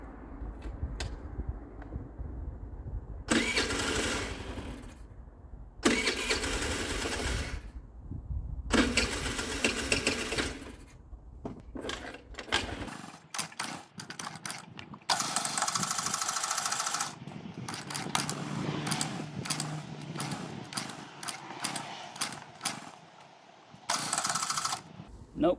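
Baotian Comfort scooter engine being cranked after carburettor work, repeated loud bursts of starter churning separated by pauses, then rough mechanical running and rattling without catching cleanly, close by.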